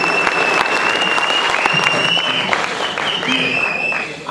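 Applause from an audience at a Tamil Sangam Chithirai Thirunaal celebration in Columbus rolls on as a dense, loud, continuous patter of clapping that fades slightly at the end.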